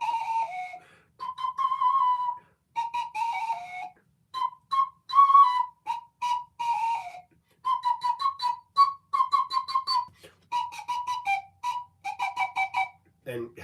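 An ocarina and a small whistle trade short bright phrases back and forth in a call-and-response improvisation, the notes coming in quick clustered bursts with brief pauses between them.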